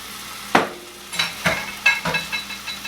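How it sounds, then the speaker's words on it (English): Spoon scraping and stirring through a thickening sauce in a pan on the stove, a few separate close strokes with a soft sizzle beneath. "Give this a little stir."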